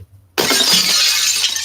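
Glass shatters in one sudden loud crash, a bright spray of breaking shards that keeps ringing and trickling for over a second, heard alone with a low steady hum underneath.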